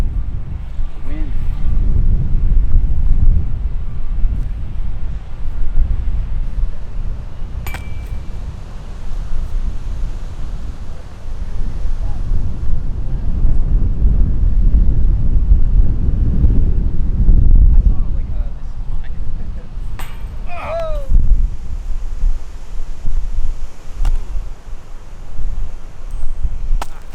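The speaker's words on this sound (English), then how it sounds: "Wind." Strong gusts roar across an open disc golf course during a wind advisory, a steady low buffeting rumble hitting the microphone throughout, with brief voices breaking through near the end.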